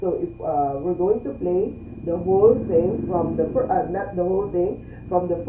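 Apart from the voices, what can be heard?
No everyday noises stand out.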